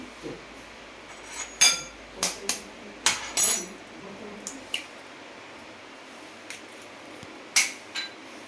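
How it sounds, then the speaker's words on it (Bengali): An egg cracked against a bowl edge and dropped into a bhetki fish mixture with garlic and ginger paste, giving a few sharp taps and clinks followed by soft wet squishes against a quiet kitchen background. "একটা ডিম ফাটিয়ে দিয়ে দিচ্ছি"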